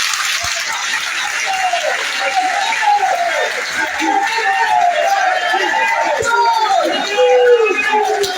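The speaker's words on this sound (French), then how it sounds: "Applaudissez Michel Gbagbo." A large outdoor crowd at a political rally in Yopougon keeps up a continuous wash of clapping mixed with shouting and excited voices, loud and sustained throughout.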